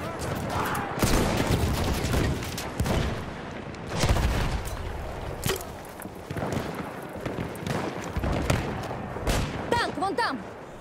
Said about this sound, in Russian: Это вражеский пулемет!